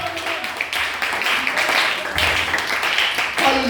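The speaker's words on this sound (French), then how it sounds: "Donnez des mains d'acclamation au Seigneur." A church congregation claps in praise to the Lord, a loud, dense wash of hand clapping with voices mixed in, steady through the clip.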